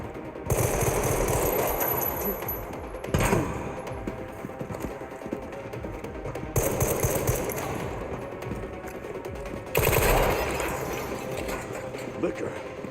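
Enemies fire in a video game, producing rapid, rattling bursts of automatic gunfire that repeat several times over a continuous noisy game backdrop. The shots are fairly loud and close.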